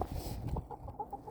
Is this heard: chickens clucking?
yes